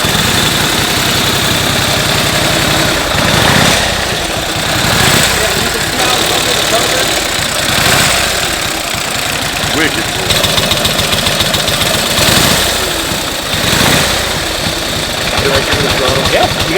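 A completely original 1915 Harley-Davidson motorcycle idles close by, its old engine chugging in an uneven, loping rhythm, with people talking over it at times.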